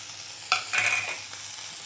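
Vegetables and spice pastes frying in a pan, a faint steady sizzle with a short spoon stir and scrape in the middle; no voices.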